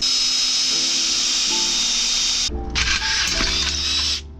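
A power drill whines steadily at high pitch while drilling holes for car bucket seat mounts, briefly cutting out midway before spinning up again and boring on, close and loud with no talking.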